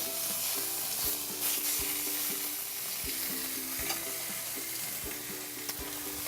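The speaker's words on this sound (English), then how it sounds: "that's the sound that you want to hear as you put that pork into the pan" Pork hitting a hot frying pan, sizzling steadily and close with a crackly hiss, joined by repeated soft clinks and scrapes from stirring or handling.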